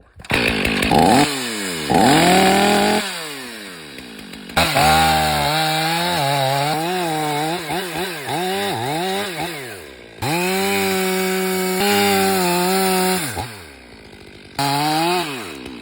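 A chainsaw cuts a triple hinge into a tree that leans heavily. The saw is loud and close, rising and falling between high revving bursts and idle, with brief pauses between cuts and no talk.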